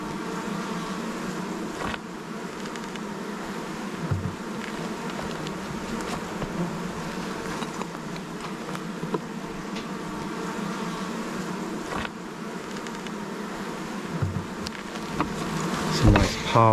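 Honey bees at an established top bar hive drone in a continuous close buzz during an inspection, with a few soft handling knocks and brief clicks near the end.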